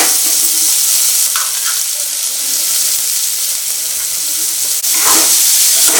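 Chopped onions and green chillies fry in hot oil, a loud, steady sizzle throughout with a couple of brief stirring scrapes against the pan.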